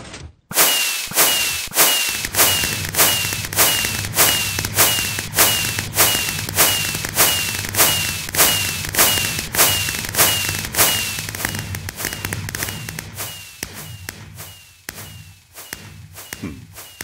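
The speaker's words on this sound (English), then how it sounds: "we should get a nice little fireworks show" In Minecraft, dispensers triggered by a T flip-flop fire a fireworks show: a rapid, regular train of sharp launch cracks and pops, with a low rumble beneath, that thins out and stops near the end.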